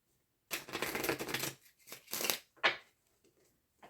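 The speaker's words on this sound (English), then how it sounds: "why I am shuffling this deck this way, it's because it's really big" A large tarot deck, split in half, is shuffled in a few rough bursts of papery riffling and rustling, the longest first, then shorter ones trailing off into quiet.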